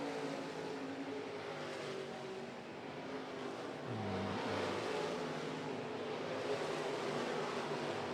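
Late model race cars roaring down the front straightaway at Volusia Speedway Park, a steady distant engine drone from the grandstand with a pass swelling near the middle.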